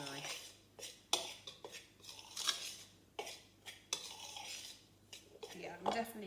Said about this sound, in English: just stir that in with your knife